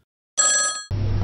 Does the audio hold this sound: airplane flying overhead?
no